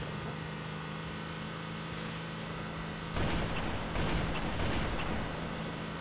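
Sniper rifle shots in the Halo video game: a few sharp, booming reports about a second apart over a steady, noisy background hum.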